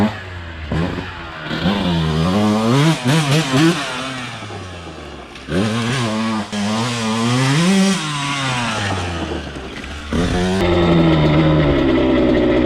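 A 125 CR two-stroke motorcycle engine revving hard during a wheelie, a loud close buzzing whine that climbs and falls repeatedly, with brief dips in throttle between sustained high-rev stretches.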